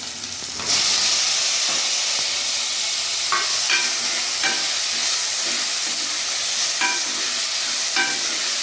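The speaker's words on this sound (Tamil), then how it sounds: "வெங்காயம் அளவு வதங்கிட்டு இப்போ தக்காளி போட்டுடலாம்." Chopped tomatoes hit a pan of frying onions for a brinjal fry, setting off a loud, steady sizzle that carries to the end, with a few light clicks of a spoon stirring the mix.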